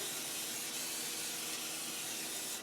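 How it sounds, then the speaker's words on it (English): Rust-proofing spray hisses steadily onto wiring inside a Land Rover body panel, one continuous close aerosol burst lasting the whole time. "we're going to put some rust proofing on the wiring"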